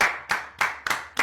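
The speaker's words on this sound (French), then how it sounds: "On applaudit." Five sharp, evenly spaced hand claps ring out close up in a steady rhythm about three per second, each with a quick decay.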